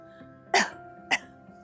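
Two deliberate coughs from one person demonstrating a cough, each a short sharp burst close to the microphone with a pause between, against a faint background hum.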